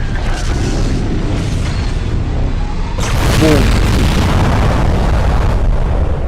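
A deep booming video game explosion hits midway, followed by rumbling debris, over a constant bed of game noise and faint background chatter.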